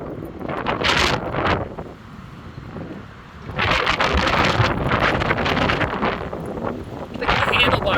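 Wind gusts buffet a puppy riding along on a vehicle outdoors. Loud roaring bursts come and go, with a lull in the middle, and a voice talks briefly over the noise.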